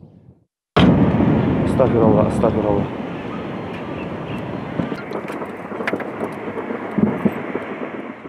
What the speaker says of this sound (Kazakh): Тіпті біз осы стендапты жазып жатқанда да оқ дәрілер гүрс-гүрс шарылып жатты